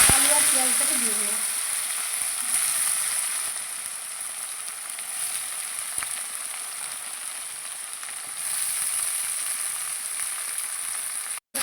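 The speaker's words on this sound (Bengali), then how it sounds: "আলু আর পেঁয়াজটা একটু ভালো করে ভেজে নেব।" Potatoes and onions sizzle steadily in a pan, with soft stirring scrapes and a brief voice near the start.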